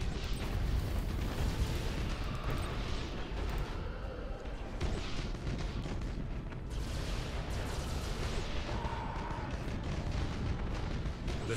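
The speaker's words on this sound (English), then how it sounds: "The station is destroyed." A space station explodes in the space strategy game Battlefleet Gothic Armada, with dense, continuous rumbling booms and blasts sustained loudly throughout without a clear break.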